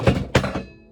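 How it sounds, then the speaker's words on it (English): A bunch of objects knocked over indoors land as two heavy, close thuds about a quarter second apart, the second loud and trailing into a short rumble, with no speech. "I just knocked a whole bunch of shit over."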